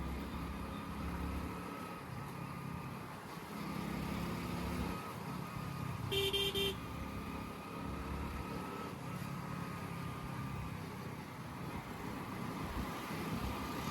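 Slow-moving car on a road, heard as a steady low engine rumble with road noise from inside the cabin, a brief ticking tone partway through, no talking.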